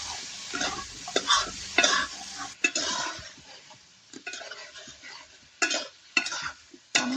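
Vegetables sizzle in a pot on a wood-burning stove as a spatula scrapes and stirs them in irregular bursts, close and clear, with no voices.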